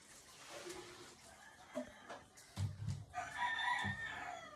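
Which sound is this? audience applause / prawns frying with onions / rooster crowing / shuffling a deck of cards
rooster crowing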